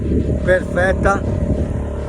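A small outboard motor on a small sailboat hums steadily in the background while someone talks over it, close to the engine.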